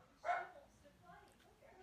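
A young puppy gives a single sharp bark near the start, loud and close, followed by fainter yips and whimpers, with speech faintly present.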